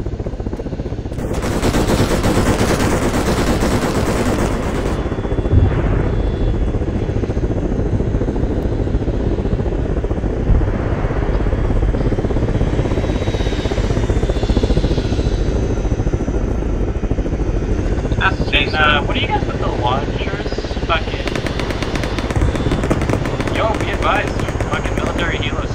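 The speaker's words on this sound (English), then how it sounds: "military helos seem to be CSAT" Military helicopters flying in Arma 3, a continuous loud rotor drone throughout, mixed with bursts of heavy machine-gun fire and gunshots.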